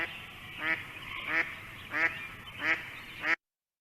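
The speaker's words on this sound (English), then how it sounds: "give a quick listen to the quacking of the mallard" A recorded mallard duck quacks five times at evenly spaced intervals, each call a nasal, raspy quack, moderately loud over a steady background hiss.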